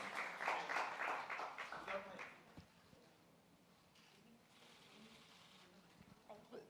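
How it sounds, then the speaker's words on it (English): An audience claps at a product launch event for Pond's Pimple Clear Face Wash. The brief, fairly faint burst of applause fades after a couple of seconds, with voices murmuring underneath. "A huge round of applause."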